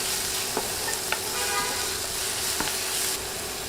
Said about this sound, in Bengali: 1 চা চামচ রসুন বাটা দিয়ে নেড়ে 30 সেকেন্ড ভেজে নিব